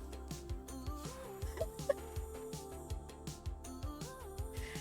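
A chicken in the Minecraft video game clucks in short, repeated bursts over a low background of game tones, fairly quiet and with no speech.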